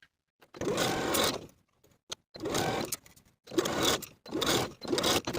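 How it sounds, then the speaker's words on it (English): A sewing machine zigzag stitches a sweater hem in four short bursts of whirring, each roughly a second long, separated by brief pauses. "I'm just going to use a zigzag stitch with a length and width of 3."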